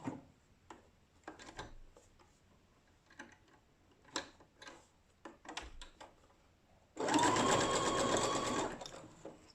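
A domestic sewing machine back-stitches over underarm elastic on a bra cup in one loud, steady burst of rapid stitching near the end, after scattered light ticks and handling clicks.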